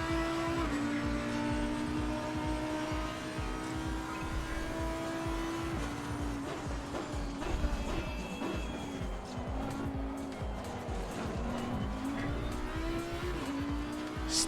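Race car engines in Assetto Corsa on a crowded grid, a sustained high engine note rising and dropping through gear changes, with tyre squeal and other cars nearby, loud and continuous, no talk.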